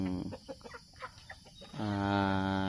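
Farm chickens cluck in quick, choppy bursts before a rooster breaks into a long, loud, clear crow close by.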